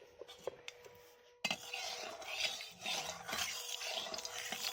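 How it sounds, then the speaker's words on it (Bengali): Oil being stirred in a wok before frying fish, with a little salt added, gives close clinks and scrapes of a utensil against the pan plus light wet sizzle, starting quiet and getting busier after the first second and a half. "তেলটা ভালো করে নাড়াচাড়া করে দিচ্ছি"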